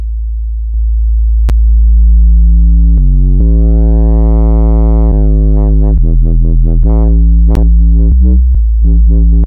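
A thick, distorted dubstep synth sub bass, saturated in Ableton, plays alone, its low tone wobbling and pulsing in rhythmic bursts with gritty overtones, loud and steady throughout.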